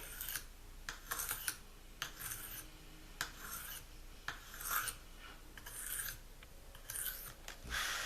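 A kitchen knife blade drawn across an oiled Tri-Hone sharpening stone makes repeated close, raspy grinding strokes, roughly one per second, with short pauses between passes.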